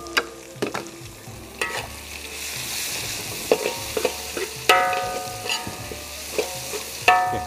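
Sliced green beans sizzle and crackle as they are stir-fried in a pan, with a steady hiss broken by repeated scraping and clinking strokes of a spatula, close and without talk.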